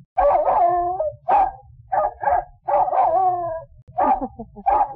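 A dog barks close by in short bursts of two or three, with brief pauses between them.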